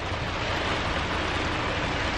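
Heavy pouring rain outdoors near a mall, a steady dense broadband roar filling the whole moment at constant loudness, with no talk.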